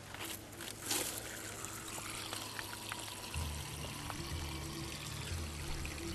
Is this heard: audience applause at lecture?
no